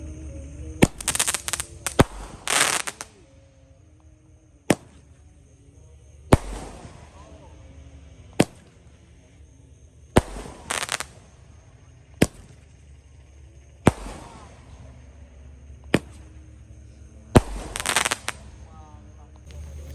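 A Roman candle 5-shot firework at a Ramadan night gathering fires repeated sharp loud launch pops at irregular intervals, some in quick pairs, with crackle between and people talking over it.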